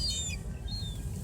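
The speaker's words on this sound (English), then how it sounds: "It's like a boiling pot of birds over there." Several small birds give brief high chirps, a quick burst and a second call, over a low rumbling background, with the flock heard together from a short distance.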